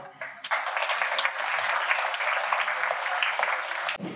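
An audience greets a speaker with applause at a tech conference talk, a sudden burst of dense clapping that holds steady for several seconds and then cuts off abruptly.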